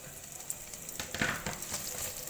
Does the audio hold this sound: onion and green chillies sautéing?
yes